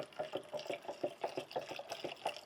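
Water is poured in while juice is being made, producing a rhythmic glugging, gurgling flow of repeated pulses that is soft and close, with no voices.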